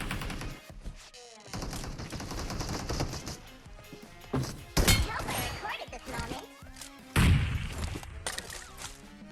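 Gunfire in the PUBG Mobile battle game from an SKS rifle: dense bursts of sharp shots and impacts run throughout, with louder cracks near the middle and end, mixed with game effects and people talking.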